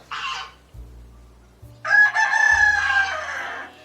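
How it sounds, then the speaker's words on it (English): Geese honk loudly and close by in a short burst of several calls, the last call long and drawn out, with a low steady hum underneath. "Excuse the geese."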